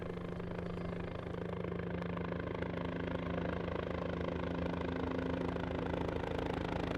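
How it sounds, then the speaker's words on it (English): Steady, continuous drone of a helicopter leaving Upper Mustang in the Nepal Himalaya, a constant engine and rotor hum that holds even and fairly loud throughout with no voices. "It was time for me to leave Upper Mustang. Not by horse, but by helicopter."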